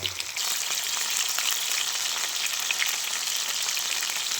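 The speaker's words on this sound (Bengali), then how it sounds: "দেখুন কেমন টকবক করে ফুটছে" Steady dense sizzle of oil frying, continuous crackling and bubbling throughout, close and fairly loud with no voices.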